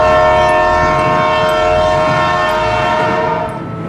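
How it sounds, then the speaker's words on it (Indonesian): Loud, sustained horn of an approaching train locomotive at a rail crossing, blaring steadily from the start and easing off slightly toward the end, with a rumbling train beneath it. "Dan saat itulah ia mendengar suara sirine kereta api."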